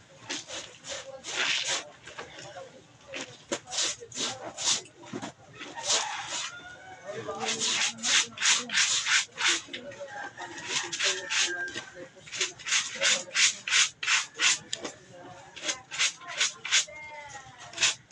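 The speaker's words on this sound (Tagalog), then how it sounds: "Gamit po tayo na ano, brush guys para matanggal yung dirty guys" A brush scrubs laundry by hand in quick bursts of rhythmic, rasping strokes, close and fairly loud, with chickens clucking and crowing in the background and someone talking at times.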